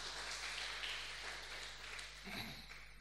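A church congregation claps for God during a sermon, a steady wash of many hands over a low electrical hum, with a brief rustle of movement near the end.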